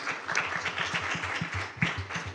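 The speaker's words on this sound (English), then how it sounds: "Big round of applause, everybody" An audience at a literature festival gives a round of applause, steady dense clapping throughout with a few faint voices mixed in.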